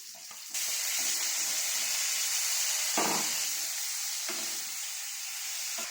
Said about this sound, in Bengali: এখন পনিরগুলো ভেজে নেব